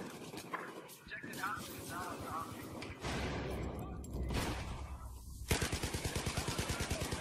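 Battlefield 4 multiplayer gunfire crackles in rapid bursts, ending in a fast run of evenly spaced automatic shots, loud and close, mixed with game sounds.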